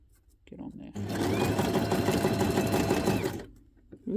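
A sewing machine running a straight stitch through tiny paper scraps whirs steadily for about two and a half seconds, starting and stopping abruptly, with brief quiet talk before and after.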